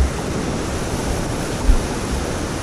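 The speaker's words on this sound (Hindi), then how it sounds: "जो झरना है आप मेरे पीछे देख सकते हैं।" The Aharbal waterfall in Kashmir roars as a dense, steady rush of falling water, loud and close, filling the scene without any voices.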